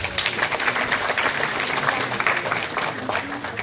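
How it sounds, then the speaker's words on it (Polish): A gala awards audience applauds an award announcement, dense continuous clapping throughout with some voices mixed in. "Liczymy na brawa."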